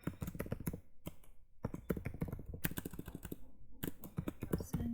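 Close, rapid typing on a computer keyboard, a dense clatter of keystrokes broken by a few brief pauses, with no talking.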